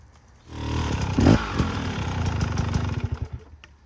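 A KTM 300 two-stroke enduro motorcycle works up a hard off-road line nearby, its engine revving and blipping unevenly under clutch control, with rattles and clatter as it climbs.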